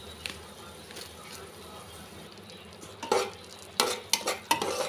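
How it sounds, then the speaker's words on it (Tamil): Masala with chili powder and garam masala sizzles steadily in a pan, with soft scraping stirs that grow into louder clattering strokes near the end. "நல்லா வதக்கிக்கோங்க."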